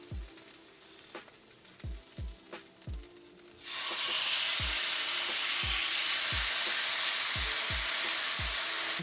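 Steak frying in a pan: soft repeated low thumps at first, then a sudden loud, steady sizzling hiss that fills the rest of the clip, close and with no talking.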